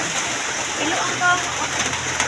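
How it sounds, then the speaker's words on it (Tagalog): Rain falls outdoors as a broad, constant wash of patter, with a person talking over it nearby. "Ulan guys, ulan."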